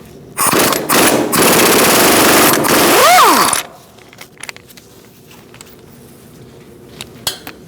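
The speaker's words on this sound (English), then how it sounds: "Using a 21mm socket, we're going to take off these two bolts for the caliper." Impact wrench with a 21mm socket rattling loudly in a sustained burst on the brake caliper bolts of a 2004-2012 Chevrolet Colorado front hub. The tool winds down, then light clinks and handling noises follow.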